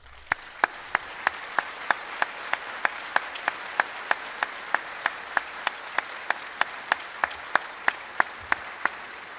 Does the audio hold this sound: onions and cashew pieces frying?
no